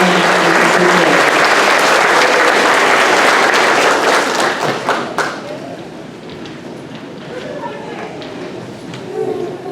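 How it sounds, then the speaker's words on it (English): Applause from a school audience cheering graduating 5th grade students at an elementary school graduation ceremony, loud and dense for about five seconds before fading into scattered claps and murmuring voices. "One more round of applause for these students"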